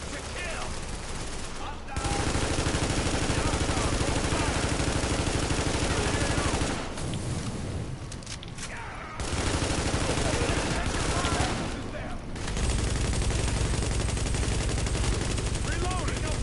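Automatic gunfire in a firefight in The Division, with dense sustained bursts and volleys broken by a few short lulls, and shouted voices mixed in.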